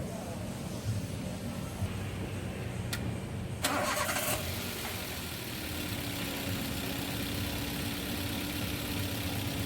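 A Daihatsu Terios with a fault causing high fuel use and low power idles, then is cranked briefly and starts, settling into a steady, faint idle drone.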